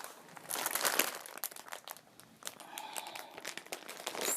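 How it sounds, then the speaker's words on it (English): Plastic packaging crinkles and rustles close by in uneven bursts, with sharper crackles among the softer handling, and no talking. "I'm sorry for the crinkling."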